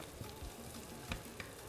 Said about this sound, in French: échine de porc qu'on fait colorer des deux côtés